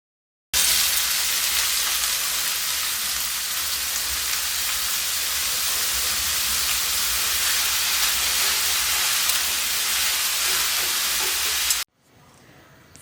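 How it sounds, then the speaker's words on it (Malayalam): Chopped onions hit hot oil in a pan for paneer masala, setting off a loud, steady hiss of sizzling that holds for about eleven seconds before cutting off abruptly. "ഇതിലേക്ക് ചോപ്പ് ചെയ്ത സവാള ചേർക്കാം"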